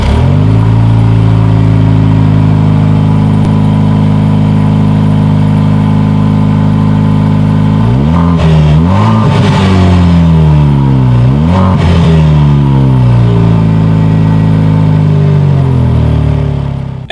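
A 2020 Jaguar F-Type four-cylinder exhaust idles with a steady, loud drone, then a series of sharp throttle blips rise and fall before settling back, heard close and alone.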